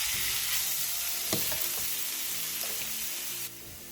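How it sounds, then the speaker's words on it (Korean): Zucchini stir-fries in a pan over medium-low heat for a quick Korean side dish, sizzling loudly and evenly with a few sharp clacks of stirring, and no voices at all. "중약불로 줄여 호박의 숨이 완전히 죽을 때까지 볶아주세요"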